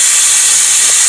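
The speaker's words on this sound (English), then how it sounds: "What you're hearing is the sound of the air exhausting out of the system." A loud, steady hiss of compressed air venting from the pneumatic system of an automatic horse feeder, continuous and close throughout.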